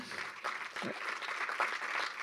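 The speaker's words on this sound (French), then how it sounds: "On peut les applaudir également." Moderate clapping from an audience at an advertisers' awards ceremony after a category winner is announced, fairly quiet and brief, with a few sharper claps standing out.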